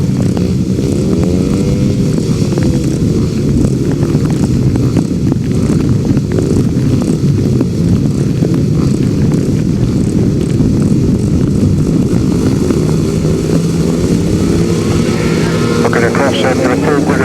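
Youth-class motorcycles race on a grass track in difficult conditions, engines whining and rising and falling as riders pass, loud and continuous, while a commentator talks over the racing.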